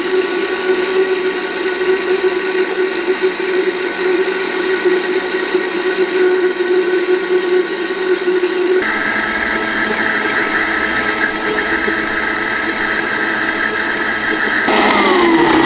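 A blender whirring steadily as it mixes homemade mayonnaise, a loud continuous motor drone that shifts pitch partway through as the mixture thickens, with no talking.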